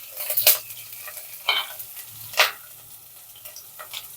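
Chopped onion frying in oil in a pan for home-style fried rice: a faint, low sizzle under a few brief, louder scrapes of stirring spaced about a second apart.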